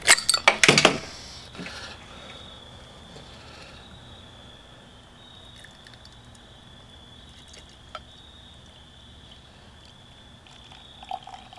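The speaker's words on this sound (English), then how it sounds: "we're going to pop open a bottle of this homemade Vienna Blonde" Homemade Vienna Blonde ale poured from a bottle: a sharp cap pop and fizz at the start, then a soft, faint trickle of liquid running into a glass, with a couple of small clinks.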